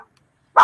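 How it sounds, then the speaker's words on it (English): A single short, loud dog bark bursts out near the end after near silence. "Sorry, that's my dog."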